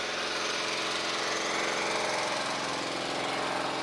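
A small 10-horsepower 4-cylinder engine on a 1949 Detroit all-wheel-drive tractor with chained tires runs at a steady, close rumbling idle with a busy mechanical patter, continuous and alone for the whole stretch.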